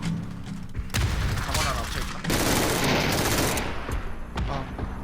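Bursts of rapid gunfire crackle and boom from a game, with loud volleys and a few single shots, while a voice talks over the action.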